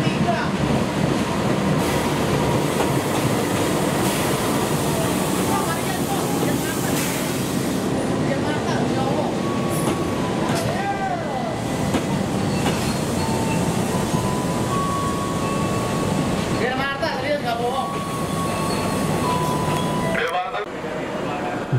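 The Taksaka Tambahan passenger train rolls through Matraman station in Indonesia, a loud sustained rumble and rattle of cars passing close by for many seconds, with squeals, horn-like tones and station announcements heard along the way.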